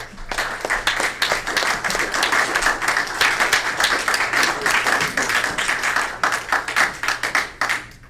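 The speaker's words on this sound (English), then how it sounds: "All right, give these gentlemen a round of applause." An audience at a scout troop Court of Honor claps steadily, a dense and sustained round of applause heard alone for several seconds.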